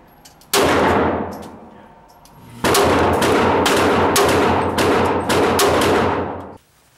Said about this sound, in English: Today I got the opportunity to shoot a custom Glock made by Wheaton Arms.